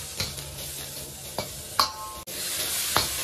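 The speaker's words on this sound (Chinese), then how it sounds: "放里4克油、5克油、6克油都行啊，放上葱姜" Chopped scallion and ginger hit hot oil in a wok, giving a steady close sizzle broken by a few sharp clicks and scrapes of stirring, with no talking.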